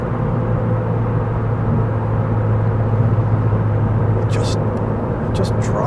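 A 2017-2020 Honda Civic Si Coupe pulls in fourth gear at part throttle, its low, steady engine drone and road rumble running beneath a voice.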